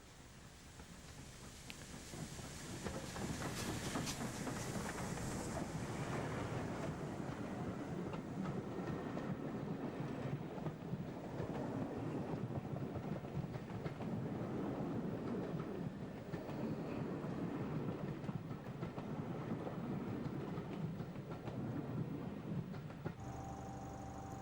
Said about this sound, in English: Emerging from Wansford Tunnel, heading west, this special working is headed by 3 engines